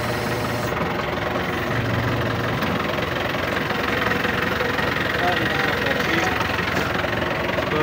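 A forklift engine idles with a constant, mid-pitched mechanical drone and a slight knock, loud and close, steady throughout.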